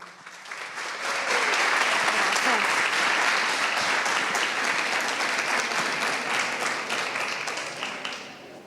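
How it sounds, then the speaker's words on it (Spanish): A crowd applauds steadily for several seconds, the clapping swelling quickly and then slowly tapering off. "Recibámosla con un fuerte aplauso."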